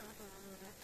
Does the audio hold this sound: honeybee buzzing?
yes